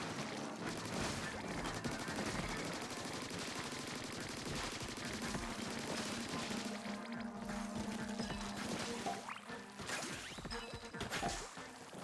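Weapon fire in the video game Splatoon 3, with rapid bursts of shots and splatting impacts set against game music and effects, moderately quiet throughout.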